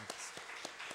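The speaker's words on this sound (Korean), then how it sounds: "우리 다시 한번 격려의 박수" Short, faint bursts of hand clapping from a church congregation during a Sunday afternoon service, four distinct claps spaced roughly a quarter second apart, distant and quiet with no voices.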